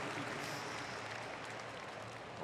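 A stadium crowd at the Berlin 2018 European Athletics Championships applauds a runner in the women's 1500m heats, a faint, even wash of distant clapping with no breaks.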